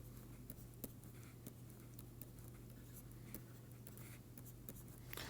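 Chalk or pen writing out equations during a lecture, faint scattered taps and scratches over a steady low hum, quiet and close, with no speech.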